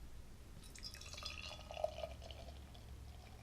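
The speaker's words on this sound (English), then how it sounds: "let's give it a proper pour into the Teku here." Double dry-hopped hazy beer poured into a Teku stemmed glass, a soft continuous gurgling pour with faint dripping and fizzing, close and quiet, with no talk.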